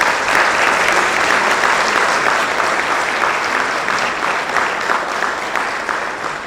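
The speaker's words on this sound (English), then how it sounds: "let's please give him a warm round of applause" A large crowd applauds loudly and steadily, a dense wash of clapping that holds strong throughout and eases only slightly at the end.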